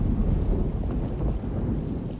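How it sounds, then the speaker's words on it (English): Video game thunderstorm in Alone in the Dark, with steady rain and low rolling thunder filling the scene, moderately loud and unbroken, no voices. "Just keeping an eye out for the storm. Radio says it could be a wild one."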